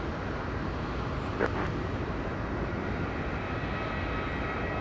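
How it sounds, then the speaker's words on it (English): EasyJet airliners at Madeira Island Airport, one pushing back while another approaches, give a steady, broad distant jet roar that stays even throughout, with a brief faint click partway through and no talking. "Now the EasyJet pushback and another EasyJet approaching."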